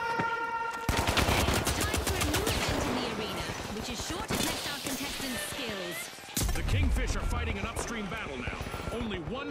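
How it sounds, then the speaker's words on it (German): Automated gun turret in the video game THE FINALS firing in dense, rapid bursts, loud and close, with only a brief break, amid other game effects while players talk over it. "Schon wieder das scheiß Geschütz."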